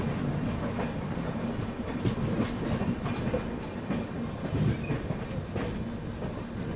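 A passenger train, the Northeast Express on Indian rails, rolls along with a steady close rumble and a repeating clickety-clack of wheels over rail joints, heard from inside without talk.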